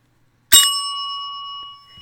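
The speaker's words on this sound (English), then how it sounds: "ding the little bell." A single bright bell ding strikes once, loud and close, then rings out in a long sustained tone that slowly fades, with no voices around it.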